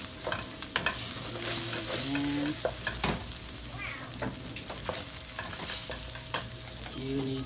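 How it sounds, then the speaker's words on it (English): Carbonara with egg being stirred in a hot pan, a steady scraping stir over continuous sizzling, close and fairly loud, with a brief spoken word near the start. "Okay, just keep on stirring."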